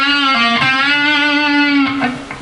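Distorted electric guitar playing a pull-off lick, a sustained overdriven note bending into quick pull-off changes, loud and alone.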